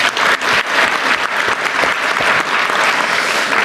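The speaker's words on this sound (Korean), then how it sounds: "박수 한번 주세요." A dense, loud round of applause from a crowd at a public meeting, continuous for the whole stretch with no speech over it.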